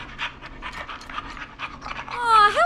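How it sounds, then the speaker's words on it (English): A dog pants in quick, steady breaths in the video game Killer Frequency, ending in a rising whine or whimper. It is close and moderately loud, with no talking. "He's the best dog a guy could ask for."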